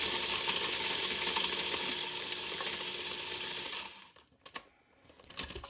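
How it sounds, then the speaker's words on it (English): Food processor grinding graham crackers into crumbs, a dense whirring grind for about four seconds that stops abruptly, followed by faint clicks and rattles. "Let's start by grinding up 8 crackers in the food processor."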